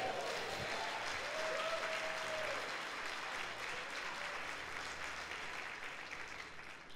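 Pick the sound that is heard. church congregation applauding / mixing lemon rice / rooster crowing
church congregation applauding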